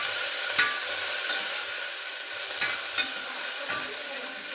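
Chopped onions and mint stirred in hot oil give a loud, steady sizzle, with a spoon scraping the pan in a few distinct strokes; no one speaks.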